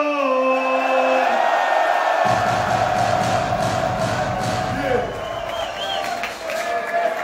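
A live hip-hop concert crowd in Athens roars and cheers continuously, with a loud wash of noise swelling beneath a performer's shouted voice at a show.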